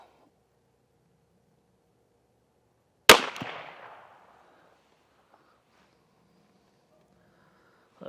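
A single sharp pistol shot from a roughly 4.5-inch barrel, fired at a target 20 yards away, cracks loudly and close, then decays into a short echo against near silence.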